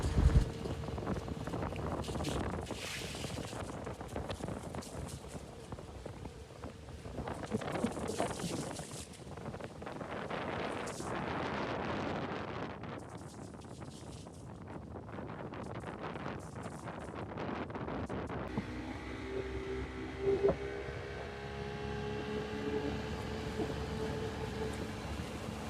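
Boat engine running on the Madampe river near Ambalangoda, a steady low drone under strong wind buffeting on the microphone, lasting throughout with gusty swells and fainter stretches near the end.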